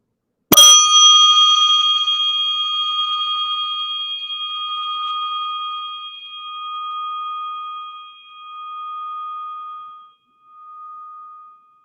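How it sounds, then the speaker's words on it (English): A little bell is struck once, a bright clear ding that rings on alone in silence, its tone slowly fading and wavering for about ten seconds. "I'm going to ring this little bell"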